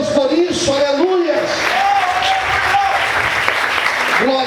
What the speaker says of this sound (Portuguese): Você pode aplaudir e exaltar a Deus por isso, aleluia.